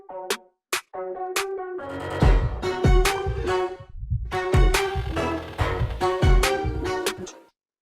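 Pitch-shifted pickup fill built in Pro Tools for a K-pop track, sparse hits at first and then a busy, full drum-and-chord fill that resolves into the final chord before ending abruptly.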